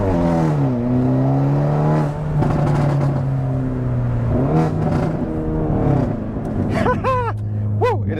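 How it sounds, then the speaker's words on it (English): A Hyundai Veloster N DCT with a Borla Atak catback exhaust roars loudly through repeated revs, the engine climbing and dropping in pitch several times, with quick sharp blips near the end. "This is a Borla Atak Catback exhaust, and it is loud as hell"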